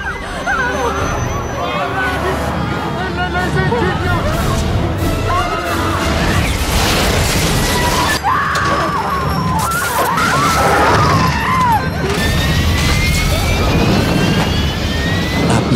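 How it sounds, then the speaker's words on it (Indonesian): A jet airliner breaking apart and exploding in a disaster film scene: loud continuous engine roar with crashing, tearing impacts and panicked crowd voices throughout, all dense and close. "Mesin pesawat terdengar mengeluarkan suara berisik, dan pesawat perlahan mulai hancur."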